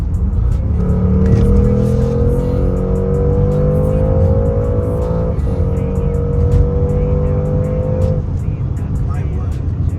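A 2025 Porsche Cayenne GTS engine in Sport Plus mode revs loud and close, holding a steady drone whose pitch climbs through the gears. It runs continuously for about eight seconds, then settles.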